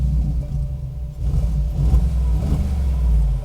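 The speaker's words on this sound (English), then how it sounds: "Now let's start it up" A 2021 Mercedes G63 AMG with a quad exhaust starts up, a deep engine rumble swelling and settling into a loud, steady idle close by.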